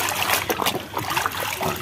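Clean water trickling and splashing softly as toy cars and trucks are washed, brief and close with small irregular dribbles.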